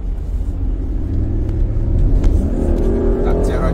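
A Mercedes SL350 R230 roadster with a 245-horsepower V6 accelerates, its engine rumbling low and steady and swelling slightly as it pulls, with a voice talking over it.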